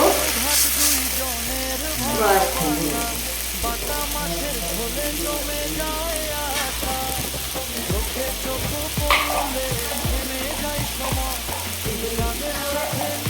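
Water poured into a pan of village-style Bengali fish curry with bata fish and helencha greens sets off a loud, steady sizzle and frying hiss, with stirring clatter throughout.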